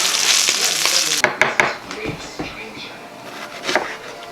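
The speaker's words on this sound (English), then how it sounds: "I'm just making some bacon to go on our pizza" Bacon frying in a pan for pizza topping, a steady broadband sizzle for the first second that cuts out abruptly, followed by scattered clicks and scrapes of stirring and handling in a kitchen.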